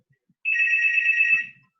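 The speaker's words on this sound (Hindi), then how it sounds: "ये किसका फोन आ रहा है?" A landline telephone ringing indoors, a single sustained electronic trill lasting about a second, clear and moderately loud against near silence.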